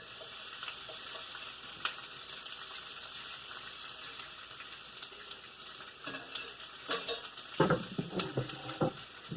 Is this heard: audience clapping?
no